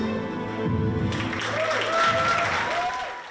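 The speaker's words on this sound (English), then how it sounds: "what's about to be a huge round of applause" Audience applause at a Cardiff Met sports awards evening, a steady wash of clapping building over a few seconds with some voices and whoops mixed in.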